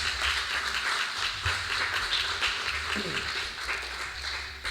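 A church congregation applauds, a dense patter of clapping spread through the room with a voice talking over it.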